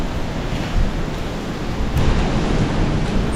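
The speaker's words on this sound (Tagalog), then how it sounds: "lakas ng ulan sa labas o oh" Heavy typhoon rain pours down outside a dorm, a loud, continuous, even roar of falling water with no break and no talking.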